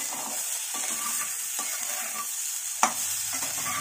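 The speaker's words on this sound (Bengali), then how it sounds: "এবার এখানে 1-2 মিনিট একটু ভাজা ভাজা করবো" Drumstick pieces stir-fry in a pan with a continuous bright hiss, close up, marked by occasional soft scrapes and one sharp clack of the utensil.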